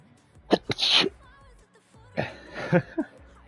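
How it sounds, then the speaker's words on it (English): Two bursts of sneezing, the first sharp with a quick double onset, the second after a short pause; close and loud with nothing else around. "I am suddenly on the sneeze attack"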